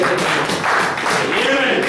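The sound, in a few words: church congregation applauding for the Lord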